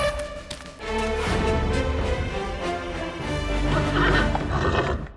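Horses neigh and whinny loudly and nearby, a long, shaky, rising-and-falling call over a rumbling background, with a few light taps and hoof-like knocks.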